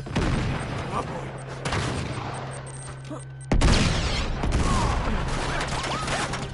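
Rapid AK rifle bursts in the Uncharted 3 video game, loud dense volleys with a sharp cut midway, layered under game effects and occasional talk.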